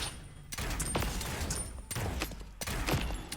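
A Grey Revolver fires in the Realm Royale video game. Several sharp, loud shots come at slow, uneven intervals, each with a short ringing tail, and no voice is heard.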